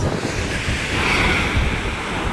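Ocean surf rushes and roars steadily through rock blowholes on Tongatapu, Tonga, a loud churning wash of water with wind noise buffeting the microphone throughout.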